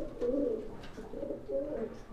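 Pigeons in a loft give soft, low, rolling coos close by, repeated in a few quick throaty phrases.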